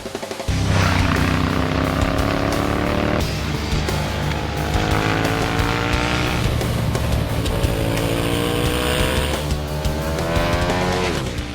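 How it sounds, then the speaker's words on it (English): A 2011 Ducati 1198 superbike with a liquid-cooled L-twin engine and dry clutch screaming around a race track, loud and continuous, rising through the revs with repeated upshifts and a deep booming exhaust note. "From the clatter of its dry clutch to the thunderous boom of its liquid-cooled L-twin engine"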